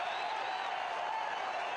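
A football stadium crowd applauding a defensive play in a CD FAS versus Deportivo Arabe Unido match, a steady, fairly faint wash of clapping and crowd noise with no distinct peaks.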